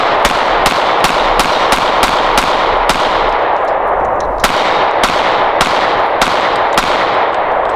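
A Canik MC9 Prime pistol fires about a dozen sharp, loud shots in a fairly steady rhythm with a short pause midway. Each crack rings off briefly outdoors.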